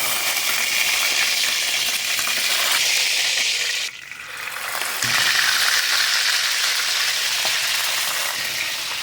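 Fish sinigang ingredients sauté in a pan with a steady, loud broadband sizzle that dips briefly near the middle before resuming at full strength, with no talking.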